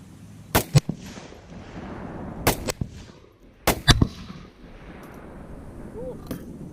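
A 6.5 Grendel rifle fires Wolf steel-case ammunition outdoors in three loud, sharp reports, each followed by a short echo and a faint metallic tinkle, with quiet gaps between shots.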